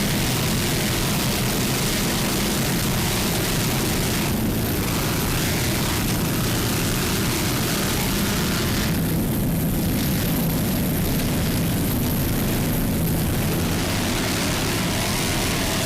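Offshore racing powerboats in the Super V class roar through a turn at a race, a loud continuous engine drone with broadband wind and water noise that surges and fades as they pass.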